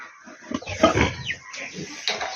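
Young piglets in a pen give a few short squeals and grunts, close by, in irregular bursts over a couple of seconds.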